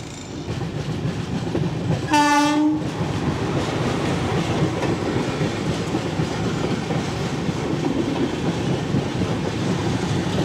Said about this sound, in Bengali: এই ট্রেনটি Shalimar Vasco da Gama express